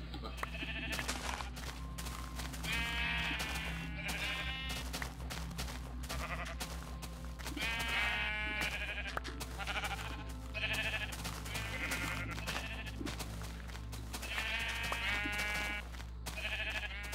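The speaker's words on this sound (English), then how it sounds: "Really fun shearing sheep." Wavering sheep bleats from Minecraft 1.2.5 recur in short bursts every second or so, moderately loud and close, layered over a steady low hum with faint clicks as the animals are sheared.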